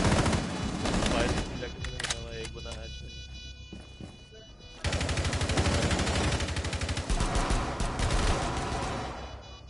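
A tactical shooter video game fires bursts of gunfire that are loud and dense, with a short lull midway. An excited commentator talks over the shots.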